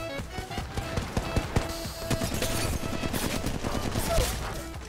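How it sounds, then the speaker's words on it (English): Gunfire rattles through an Apex Legends Mobile match, with dense overlapping bursts and scattered single shots at varying distances across the whole stretch. "Bro, I'm hearing so many shots over here"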